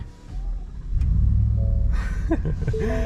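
A 2021 Shelby F-150 pickup truck engine cranks and fires, rising into a steady rumbling idle, with voices speaking over it near the end.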